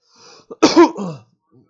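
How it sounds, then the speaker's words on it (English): A single loud, close cough with a rough throat-clearing tail, preceded by a faint breath and followed by silence. "Sorry, guys, coughing."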